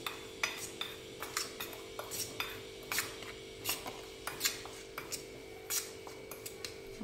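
A spoon clinks and scrapes against a bowl while mixing garam masala, turmeric, salt and red chilli powder, with sharp, irregular taps repeating close by over a low steady hum.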